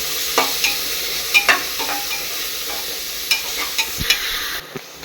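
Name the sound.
onions sautéing and being stirred in a pan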